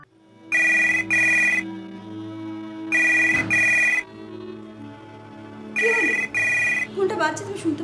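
A telephone rings indoors in three double-ring bursts, loud and near, with voices talking in the gaps between the rings.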